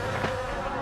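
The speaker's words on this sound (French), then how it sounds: "Regardez, nous sommes envahis par les sauterelles!" A dramatized swarm of locusts buzzes as a dense, steady insect drone, loud and close, with no speech over it.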